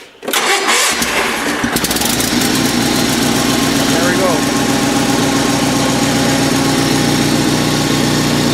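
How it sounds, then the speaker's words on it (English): A Polaris Sportsman 500 ATV engine cranks and catches on a cold start with the choke on, then settles into a loud, steady, rumbling idle up close. "So let's give it a cold start for today."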